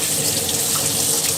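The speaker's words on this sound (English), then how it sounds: "So we will obviously start by rinsing off our mussels." Cold tap water runs steadily into a kitchen sink while mussels are rinsed, a constant close splashing rush.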